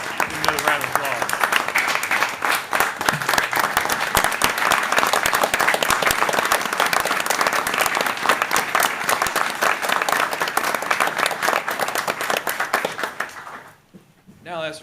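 Members of the audience at a city council meeting in Jackson, Tennessee applaud firefighters, a loud, sustained round of clapping lasting well over ten seconds before it fades out, with a voice heard faintly beneath.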